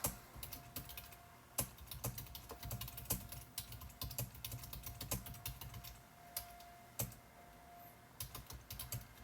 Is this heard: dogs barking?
no